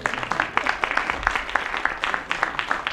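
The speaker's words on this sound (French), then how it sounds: "On s'applaudit." A small group at a digital humanities platform launch claps in scattered, sparse hand claps, a light and fairly close applause lasting a few seconds.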